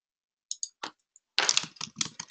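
A few sparse key clicks, then a quicker burst of clattering keystrokes on a computer keyboard, close and fairly quiet, with no talking.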